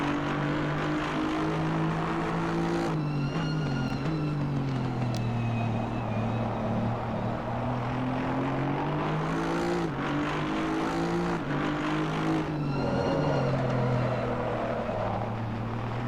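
Race cars lap Brands Hatch in an endurance racing video game, engines droning with rising and falling pitch as they brake and accelerate through corners, a steady close-up motor whine throughout.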